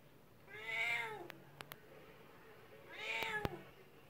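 A house cat meows twice, two drawn-out, fairly close cries about two seconds apart, with a few small clicks and taps between them in a quiet room.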